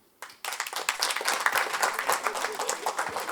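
A live comedy show audience bursts into applause after a brief lull, with a dense wash of clapping and crowd noise that holds steady and fairly loud.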